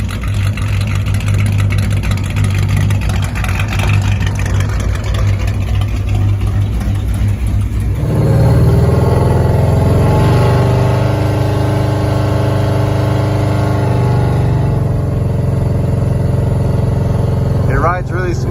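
A car engine with a 3800 stall converter at high idle on a 25-degree cold day, a steady low throbbing drone that swells louder partway through, close by, with someone talking over it.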